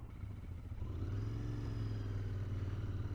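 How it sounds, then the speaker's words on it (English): Royal Enfield Interceptor 650 motorcycle engine, a close, loud, low throbbing drone with a faint rhythmic pulse that swells after a brief rev and holds steady. "Oh, that's a nice-sounding bike."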